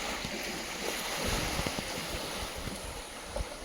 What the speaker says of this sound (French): Avec le clapotis de l'eau.